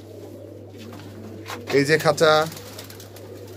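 Pakistani high flyer pigeons kept in a loft of coops and cages give a burst of loud, close cooing over a steady low hum, with someone talking before and after.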